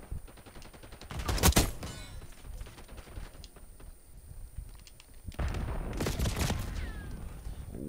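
Loud bursts of rifle fire from a burst marksman rifle in the Black Ops 6 beta, two heavy volleys about four seconds apart over constant game noise, with no talk.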